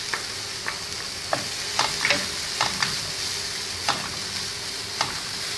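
Finely chopped carrots and peas cooking in a pan over a low flame, giving a soft steady sizzle with scattered light clicks and stirring scrapes, alone with no talk.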